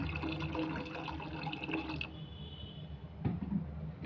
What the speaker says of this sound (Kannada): ಸ್ವಲ್ಪ ಎಷ್ಟು ಬೇಕೋ ಅಷ್ಟು ನೀರು ಹಾಕ್ಕೊಳ್ಳೋಣ